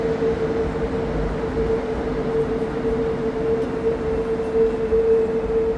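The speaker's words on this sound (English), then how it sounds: "Ah, okay, it's pulling in." A Montreal Metro Orange Line train pulls into a station, rumbling steadily, low and fairly loud, with a sustained tonal whine running through the whole stretch and no voices.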